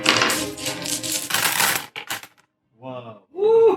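Dice rattling and clattering across a table during a tabletop roleplaying session, a busy burst of hard clicks and rolls, then a pause and brief excited voices.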